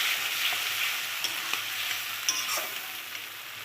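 Spice paste with melted tomato and slit green chillies stirred in a hot pan, a continuous close sizzle broken by a few scraping stirs, no voices.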